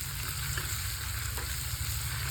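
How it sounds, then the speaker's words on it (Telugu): Capsicum masala curry being stirred in a pan right after ginger paste goes in, a steady sizzle with soft scraping strokes, close and continuous with no talking. "బాగా కలుపుకోవాలి అల్లం పేస్ట్ వేసుకున్నాక"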